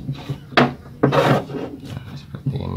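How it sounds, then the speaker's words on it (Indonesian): Tightening a bolt on a cut-out mount, a few short metallic scraping and ratcheting rasps in quick irregular bursts, close and fairly quiet. "tinggal kita kencangkan bautnya"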